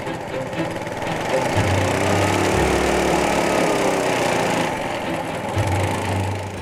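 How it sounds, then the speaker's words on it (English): A vintage motorbike engine from 1969 fires and runs on its own, a steady loud mechanical chug with rhythmic knocking that swells and dips over several seconds, close by with no speech. "the bike's engine springs to life under its own steam"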